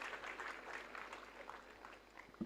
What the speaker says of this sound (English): Can we have a big round of applause for all our dignitaries